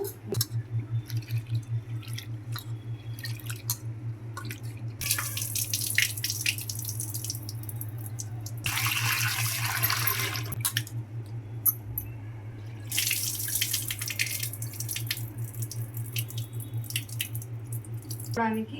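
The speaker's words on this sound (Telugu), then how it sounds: "సో ఇప్పుడు దీన్ని శుభ్రంగా అయితే కడిగేసుకుందాము" Soaked lentils rinsed in water in a kitchen, with dripping and sloshing, bursts of running tap water and a steady low hum underneath, close by, while a person talks.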